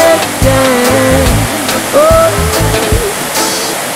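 A waterfall near Estany de Besiberri in the mountains roars loud and steady, while a tuneful melody with voice-like notes plays over the rushing water.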